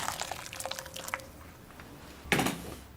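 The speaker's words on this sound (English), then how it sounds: "Just pour over some water from a recently boiled kettle." Water from a recently boiled kettle is poured over prawns to poach them, a close, quiet liquid splash with a short burst of pouring near the end after some faint drips.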